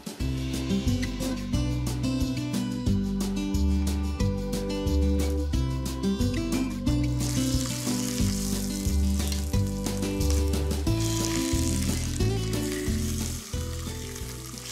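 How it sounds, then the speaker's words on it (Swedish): Chicken thighs sizzling in a pot to brown and crisp, a steady close frying crackle heard under loud background music. "jag måste steka min kycklinglår så det har en jättebra färgen"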